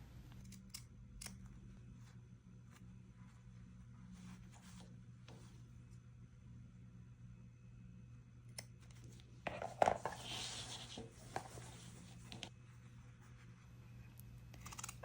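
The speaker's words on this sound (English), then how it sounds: "As you see, I started cutting from the center and now I'm cutting the other side." Quiet scissor snips cut through tailoring fabric while a back welt pocket is being made, with a short denser burst of cutting near the end and a low steady hum underneath.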